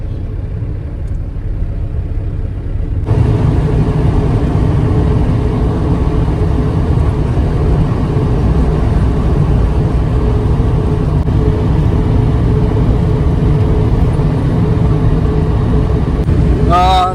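Steady road traffic rumble with car and bus engines idling and crawling past roadwork, a continuous low drone that swells after a few seconds and stays loud throughout, with a faint voice now and then.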